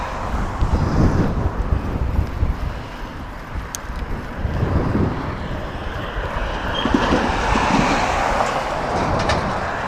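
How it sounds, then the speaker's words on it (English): Gusty wind roaring past a vehicle driving a highway, a heavy low rumble buffeting the microphone, rising and falling in surges, loud and continuous with no talk. "Little windy."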